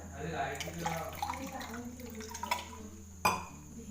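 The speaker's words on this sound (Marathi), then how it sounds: "आता ह्यात मी टाकते पाणी दोन ते तीन ग्लास पाणी टाकायचं" Two to three glasses of water are poured into ground raw mango for panha, a soft splashing trickle with a sharper slosh near the end, under a nearby voice talking.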